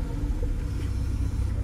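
A Mercedes-Benz E-Class W211 idles steadily with a low, even engine rumble close by, the drone holding constant throughout with no talking.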